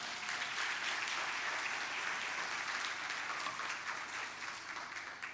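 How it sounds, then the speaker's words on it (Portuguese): A church congregation applauds at a Lord's Supper service, a steady, dense wash of many hands clapping at moderate distance, sustained without a break. "Dê um aplauso ao Senhor por isso."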